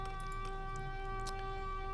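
Port sirens in the naval strategy game Victory at Sea Pacific wail as steady, sustained tones beneath a constant low hum, moderately loud and unbroken, with no talking.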